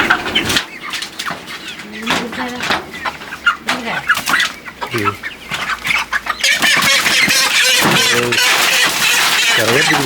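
Chickens cluck and squawk close by, wings flapping in bursts, growing into a loud, busy flurry of clucking toward the end.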